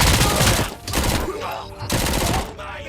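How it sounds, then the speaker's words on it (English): Gunfire in the video game Robocop Rogue City, bursts of rapid shots in a few clusters with short gaps between them, close and loud, mixed with in-game clatter. "Who's shooting at me? Oh, no. Ow. Stop shooting at me."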